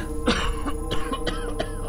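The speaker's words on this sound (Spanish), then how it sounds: "con una incesante tos que apenas si lo dejaba hablar" Someone coughs repeatedly, four or five rough, hacking bursts in quick succession, close and moderately loud.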